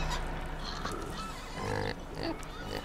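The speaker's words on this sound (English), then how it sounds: "Happy pigs." Pigs in the Farming Simulator 2015 video game oink and grunt in a jumble of overlapping squeals, fairly quiet and steady over a low background hum.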